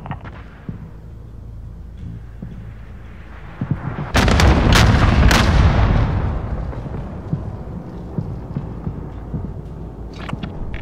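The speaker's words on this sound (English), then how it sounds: "Incoming bombing run!" Bombing run explosions in the Call of Duty Warzone video game, a sudden loud deep blast with heavy rumbling booms lasting a couple of seconds, then a distant rolling aftermath.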